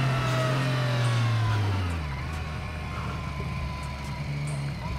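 Triumph Street Triple 765 RS motorcycle on an Alpine mountain road, its engine droning loudly and steadily up close, pitch sliding down as it eases off, with rushing wind noise throughout.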